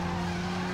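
An Alfa Romeo drifting in the video game Driver San Francisco, its tires skidding in a steady, loud squeal over a droning engine tone, brief and continuous.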